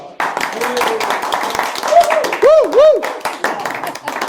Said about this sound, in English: Let's just all clap together.